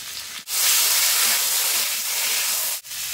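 Potatoes and bitter gourd with cumin-coriander and garlic-chilli paste fry in a pan, giving a loud, steady sizzling hiss that cuts out briefly twice.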